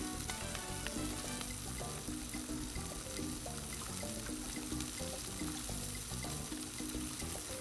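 Burger patties for bacon cheeseburgers sizzle and fry steadily on a Blackstone 22-inch griddle, a loud, continuous crackle close up with no talking.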